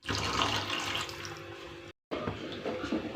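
Water pours into a pan of Dhaba-style egg gravy in a loud, splashing stream, breaks off abruptly for a moment, then resumes.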